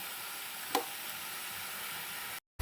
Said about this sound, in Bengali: এটা আমি দেখো অনেকটা ভাজা ভাজা করে নিয়েছি